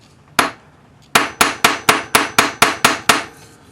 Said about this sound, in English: bench block and just hammer it gently on this curve